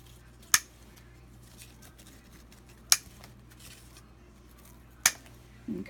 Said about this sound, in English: scissors and cut some off.